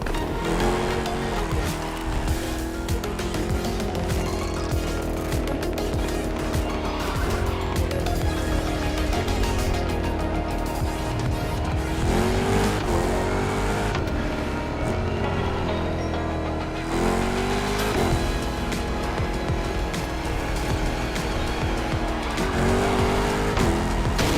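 Muscle cars racing flat out in The Crew Motorfest, engines roaring continuously with rising and falling revs and tires squealing through corners, loud and close throughout.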